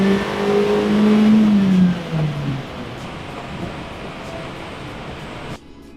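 A Suzuki Swift Sport ZC31S engine revving on a dyno: a loud rising rev that peaks, then drops away and winds down into a fading mechanical whir before cutting off.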